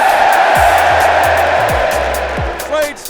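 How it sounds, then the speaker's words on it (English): A large racecourse crowd roars at the start of the Supreme at the Cheltenham Festival, a dense swelling din under a commentator's voice, with a few low thuds scattered through. "The crowd waited, and the supreme roar came."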